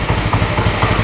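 Idling 1970s Harley-Davidson motorcycle engine, a steady, loud, close low-pitched thumping rhythm that pulses evenly throughout with no voices over it.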